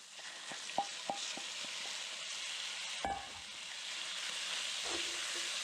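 Venison and vegetables sauté in a stir-fry pan for a Korean-style gochujang dish, giving a steady broadband sizzle with a few sharp utensil taps early on and a louder scrape near the middle.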